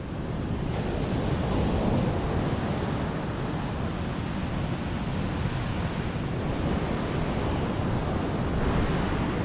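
Ocean surf rolls continuously onto a beach at Wilsons Promontory, a steady roaring wash mixed with wind buffeting the microphone, with no voices.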